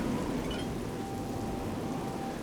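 Rain falls steadily in the video game Oblivion: Shivering Isles, a dense, even hiss of rainfall with no breaks or voices.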